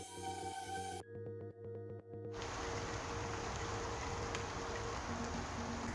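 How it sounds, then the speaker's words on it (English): Steady rain falling outdoors, a dense even hiss that fills the scene after a brief quieter stretch with a low hum at the start, with no one talking. "the rain really slowing me down"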